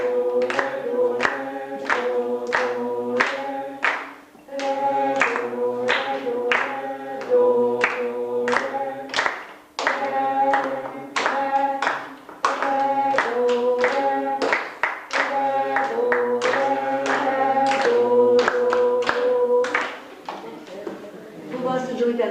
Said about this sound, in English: Are we singing and clapping at the same time?